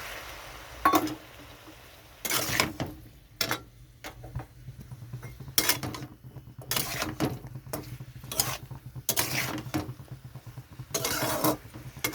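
Spice paste stir-fried with a splash of hot water in a pan for a tengra fish curry with malabar spinach stems, potato and eggplant: repeated near scraping and clattering bursts of a spatula against the pan, with quieter sizzling between.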